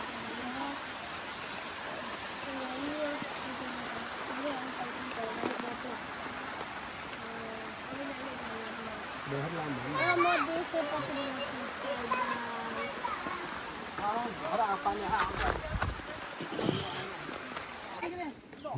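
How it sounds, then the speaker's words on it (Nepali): Rain falling on a Nepali village during outdoor work, a steady hiss of drops and runoff throughout, with people talking over it at moderate distance. "यतापट्टि साइडमा पानी परिरहेछ"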